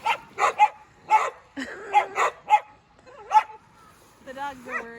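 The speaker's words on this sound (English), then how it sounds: "The dogs are worried." Dogs bark in short repeated bursts near a lake, mixed with whines and yips, while people talk over and between the barks.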